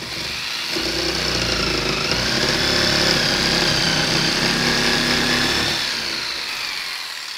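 A power tool cuts through sheet material for a homemade car front splitter, a steady, harsh whirring buzz that swells up near the start, holds loud and close for several seconds, then stops abruptly.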